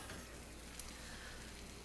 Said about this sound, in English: all you do is pour it in